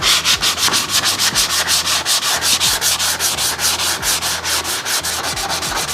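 A sanding sponge is rubbed rapidly back and forth over a car body panel during dent repair, giving close, loud, rhythmic scratchy strokes at an even brisk pace with no talking.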